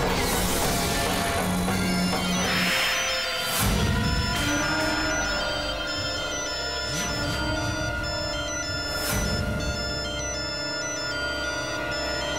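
A mobile phone ringtone plays continuously, a bright repeating electronic melody sounding over a room with occasional knocks and shuffling.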